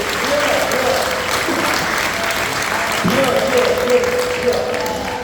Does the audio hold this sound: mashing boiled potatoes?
no